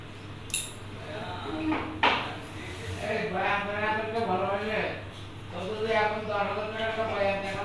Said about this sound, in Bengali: কড়াই বসাই দিছি, কড়াইতে তেল দিয়ে দিব